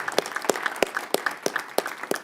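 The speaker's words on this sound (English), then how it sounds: "Let's give them a round of applause." A small audience at a fast pitch competition claps for the competitors. The hand claps come sparse and fairly regular, close by, with no other sound between them.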